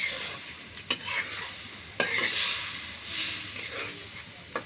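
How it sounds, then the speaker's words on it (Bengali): Curry for a picnic fried and stirred in a pan: a constant close sizzling hiss with sharp scraping strokes of the spoon at irregular intervals, swelling and fading as the mixture is turned. "একটু ভাজা ভাজা করে নেবো, কষায় নেবো"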